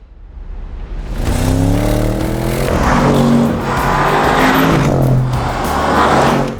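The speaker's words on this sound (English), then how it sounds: "so it's a 4-litre twin turbocharged V8." An Audi RS6 with a 4-litre twin-turbocharged V8, driven hard with a loud, rising engine note through several gear changes that swells after a quiet start.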